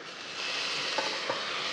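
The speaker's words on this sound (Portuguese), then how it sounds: "a carne tá queimando aqui." Meat frying and sizzling in a pan as it begins to burn, a steady broadband hiss with a couple of brief pops or stirring knocks, close and continuous with no talk.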